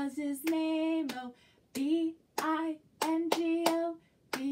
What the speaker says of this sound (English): So we're going to clap along.